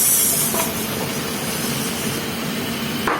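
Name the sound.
onions sizzling in pan with beef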